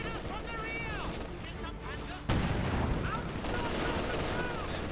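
Bursts of MG42 machine gun fire from a Company of Heroes 2 battle blend into a dense wartime din, loud and continuous, with a heavier boom partway through and a commentator's voice running underneath.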